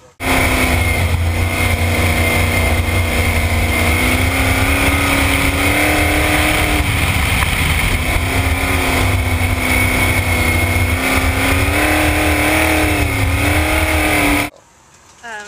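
A sprint car engine racing on a track: a loud, continuous, droning roar with rising and falling pitch as the car accelerates, close and steady for about fourteen seconds before cutting off abruptly.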